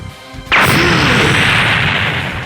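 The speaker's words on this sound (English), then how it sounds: "explosions are seen rushing all down the cityscape in a straight line" After a quiet moment, a sudden loud blast erupts into a sustained rumbling roar that slowly fades, like a chain of explosions racing in a line across a city.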